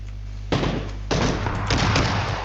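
Gunfire bursts in the battle-royale game PUBG, likely shotgun blasts: three loud, broad blasts with sustained rumble, the first starting about half a second in, each trailing into the next over a low steady hum.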